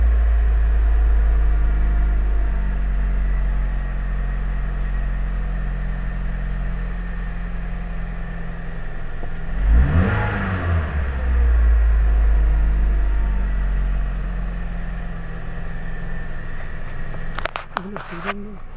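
A Honda Freed engine idles steadily after throttle body servicing, a low continuous hum with a brief rise in revs midway, then settling back to a smooth idle.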